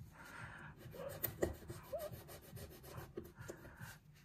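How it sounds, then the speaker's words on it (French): A coin scratches the coating off a lottery scratch card, giving close, rapid rasping strokes in uneven bursts with a few small taps, and no voices. "Et on gratte."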